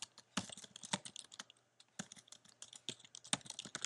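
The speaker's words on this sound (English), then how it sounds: "So what I'll do is type something," Quiet, close typing on a computer keyboard: irregular runs of light key clicks with a short pause midway, no voice.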